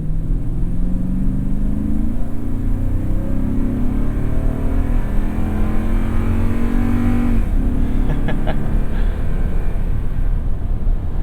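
A Toyota Tundra pickup with a 5.7 V8 drives on Kumho Road Venture AT52 all-terrain tires, its engine droning low and loud as it accelerates with rising pitch over steady road and tire rumble. A few faint clicks sound late on.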